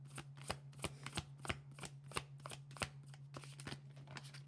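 Tarot cards are shuffled by hand in a steady series of crisp, riffling bursts roughly every third of a second, close and fairly quiet over a low electrical hum.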